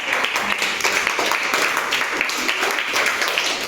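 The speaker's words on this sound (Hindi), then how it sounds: "ताली बजा दो इसके लिए" Schoolchildren in a government school classroom clap together in a lively burst of applause, a dense, continuous patter of many hands filling the room at close range.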